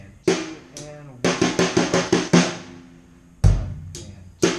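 A drum kit plays a beat that flows into a single stroke seven fill: sharp, evenly spaced hits in a quick run, then a heavy accent with the bass drum and a few scattered strikes, close and dry.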